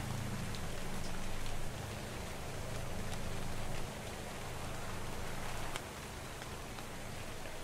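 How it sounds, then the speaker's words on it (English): Steady rainfall in the survival video game Ark: Survival Evolved, a dense continuous patter of drops on surfaces with a faint low rumble underneath, even in level throughout. "it's raining again"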